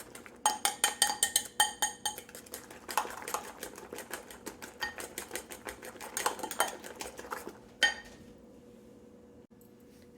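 A serving spoon clinks and scrapes rapidly against a bowl while stirring an egg and vegetable muffin batter, a dense run of sharp taps that stops near the end, leaving quiet room tone with no talk.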